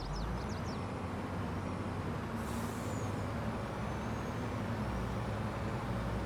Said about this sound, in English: Oh, our truck's back.